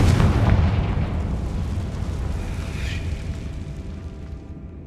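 Confringo blasting spell detonating in Hogwarts Legacy, a loud booming burst at the start that rumbles on as a sustained, gradually fading roar of debris and echo with no voices.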